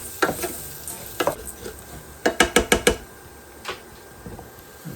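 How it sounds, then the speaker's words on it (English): Rice and pasta get stirred in butter in a pan over a low sizzle, with sharp clacking spoon strokes that come in scattered single hits and then a quick run of five rhythmic scrapes. "So I would just stir it around for a minute or so."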